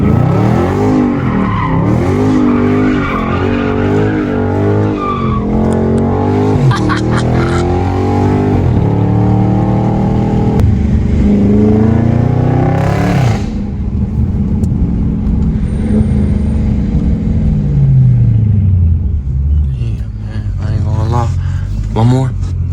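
A Dodge Charger Scat Pack slides around a street corner, its engine revving hard with tires squealing in long drawn-out skids, loud and close, while people talk excitedly over it.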